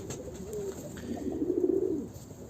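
Pigeons cooing in a breeding coop, a soft, low rolling coo that swells in the middle and fades, close by with faint background rustle and no talk.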